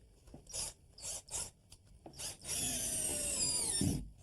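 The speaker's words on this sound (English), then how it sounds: "Karen, now do you want to start screwing the floor off, following the string line, keeping the screws about 8 inches apart?" Screws are driven into a floor to fix squeaks, a power driver whirring in several short bursts and then one longer, louder run, close by with no talk.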